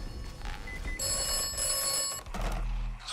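An old telephone rings inside the video game Atomfall, a bright bell-like trill lasting about a second between quieter game ambience, with no speech over it.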